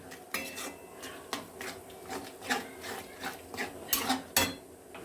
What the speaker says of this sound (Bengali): দিয়ে আমি ধনে পাতা পেস্টটা আমি দিয়ে দেবো, দিয়ে ভালো করে কষাতে হবে।